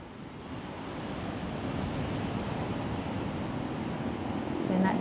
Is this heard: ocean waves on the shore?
yes